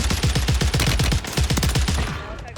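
Rapid bursts of submachine gun fire from Warzone 3, a fast rhythmic stream of loud close shots that tapers off near the end.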